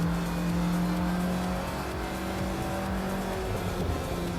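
A car driven fast and boldly, its engine droning and revving with tire noise, steady and fairly close, with no talking.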